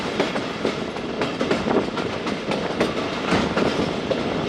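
An economy-class Thal Express train rolls along through mountain country, its wheels clacking in a steady rhythm over the rails amid a loud continuous rumble and rushing wind.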